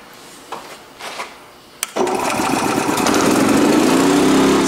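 An Energizer eZV3200P portable inverter generator is pull-started: a few short rope-pull rasps, a sharp click, then the engine catches and runs at a loud, steady, buzzing drone close by.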